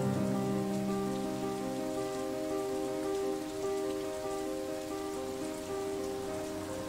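Sprinklers spray artificial rain in a steady, dense hiss of falling water, loud and continuous with a low tonal hum underneath and no talking.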